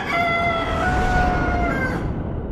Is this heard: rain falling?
no